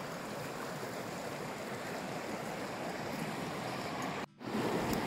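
Mountain river near Harsil in Uttarkashi, rushing continuously with a dense, broad roar close by, briefly dipping near the end before resuming.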